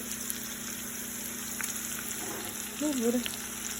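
Bacon and mushrooms sizzle in grease in a pot, a steady, even hiss of frying at moderate volume, with a faint voice murmuring briefly near the end.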